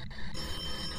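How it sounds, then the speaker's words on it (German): Telephone ringing inside the horror video game Phasmophobia, a steady electronic ring heard alone for about a second. "Telefon!"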